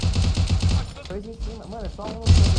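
Rapid gunfire bursts from a shooter video game, loud and repeated at the start and again at the end, with a voice speaking and game sounds in between.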